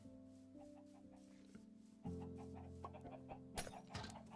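Chickens cluck in the game Minecraft, Bedrock edition with a RealismCraft pack, during survival play: soft, repeated clucks close by over a steady game background hum, with a sharper burst of noise near the end.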